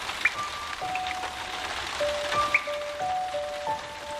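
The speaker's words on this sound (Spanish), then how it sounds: "Y si pudieras oír el verdadero sonido de la lluvia." Steady rain falls on a surface with dense, constant patter and scattered louder drops, while thin tonal notes drift in and out over the wash.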